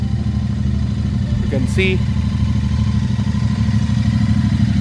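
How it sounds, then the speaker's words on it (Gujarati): Motorcycles parked outside a stay property on a ride to Mount Abu idle together while warming up, a loud steady low engine rumble throughout with a person speaking briefly over it. "આપણી બાઇક્સ અહીંયા આગળ મસ્ત વોર્મઅપ કરવા માટે આપણે મૂકી દીધી છે"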